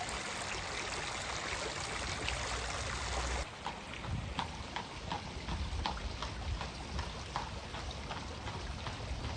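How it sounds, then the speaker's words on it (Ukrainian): Water rushes and babbles steadily in a stream, a continuous broadband wash with small splashing ticks, close by and fairly loud. "Тече вода, тече бистра вода."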